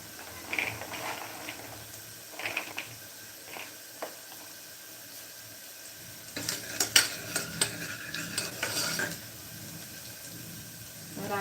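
Onion stirred and fried in a pan for chickpea amti, a soft sizzle under intermittent scraping strokes that grow busier and louder in the second half, with no talking.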